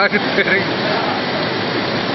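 Water pouring down from above in Madhubani, a dense, steady rushing splash that fills the whole clip at close range, with a brief voice-like murmur near the start.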